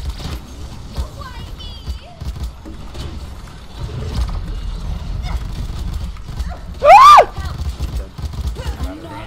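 A horse neighs once, loud and shrill, in a video game, amid clip-clopping hooves and game sounds, while people talk over it.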